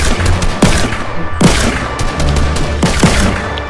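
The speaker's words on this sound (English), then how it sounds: "Yep, just make sure to shoot all the blocks." Gunfire in the Fortnite video game as a player shoots blocks in a troll deathrun map, with several sharp bursts of rapid shots separated by short pauses. The shots are loud and close, and no one talks.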